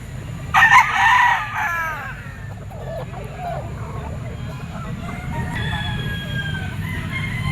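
A gamecock stag crows once, close and loud, near the start, followed later by fainter distant crowing from other roosters over steady low background noise at a fowl market.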